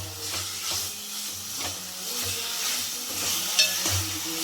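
Chicken curry frying in a pan on a high flame gives a steady, fairly quiet sizzling hiss, broken by regular scraping stirs at a roughly even rhythm, with nobody talking.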